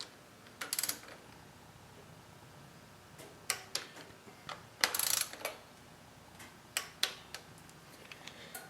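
A ratchet wrench tightens the battery terminal bolts on a 2008 Harley Davidson Road Glide, giving short bursts of crisp metallic clicks spaced irregularly across a quiet background.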